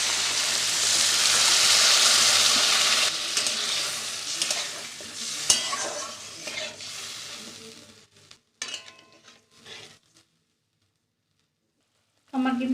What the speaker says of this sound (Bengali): তার মানে আমার মশলাটা হয়ে গেছে কষানো। আমি এবার জল দিয়ে দিচ্ছি।